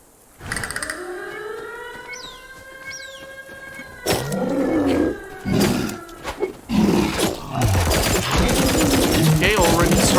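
Defense towers fire at enemies in the survival game Dysmantle, a busy mix of rapid shot bursts and booming impacts over a rising tonal hum, growing denser and louder toward the end.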